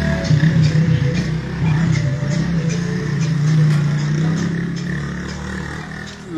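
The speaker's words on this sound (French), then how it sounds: "Du fait des bruits des véhicules, des motos, je suis obligé de repartir à l'intérieur." Outdoor street traffic, with cars and motorcycles passing, fills the scene with a continuous loud engine rumble and rough road noise that swells and fades slightly.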